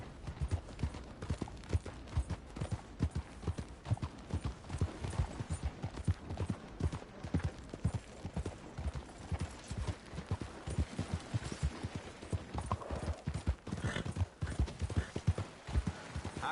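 Steady clip-clopping of hooves on hard ground in a video game, several horses trotting in an irregular rhythm, fairly close, with a faint murmur of voices at moments.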